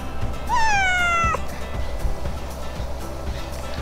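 A little black cat gives one clear, rising-then-falling meow, close and fairly loud over a low background rumble and lapping water, likely aboard a boat.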